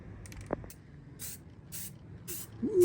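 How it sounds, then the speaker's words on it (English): Spray primer hissing onto a cargo trailer entry door in short repeated bursts, each spray a few tenths of a second, with a small clank early on and faint handling noise between bursts. "he's gonna hit it with a nice coat of primer"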